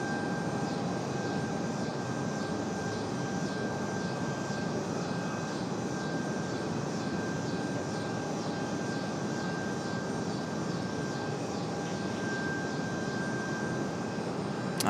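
An Aeromexico jet airliner departs from Raleigh-Durham airport, its engines giving a steady distant roar that holds evenly throughout with no talk.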